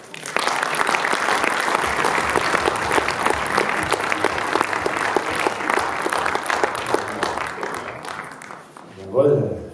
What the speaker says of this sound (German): Applaus für den Preisträger.